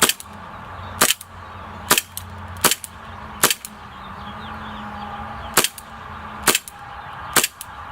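Inokatsu Colt 1911A1 airsoft pistol, a 100-year anniversary model, fires eight sharp, snappy shots at uneven intervals, loud and close, with a low steady hum between them and no talking.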